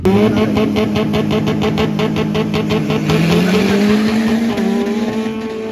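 Turbocharged car launching off the line at a drag race meet: loud, close engine roar with rapid pulsing and rising pitch as it accelerates away, fading slightly at the end.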